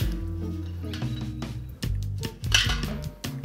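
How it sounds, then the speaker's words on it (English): A metal colander lands in a metal pot during queso blanco cheesemaking, giving several close, loud clanks and rattling knocks in a quick uneven burst. "Just gonna kind of drop our colander into the pot."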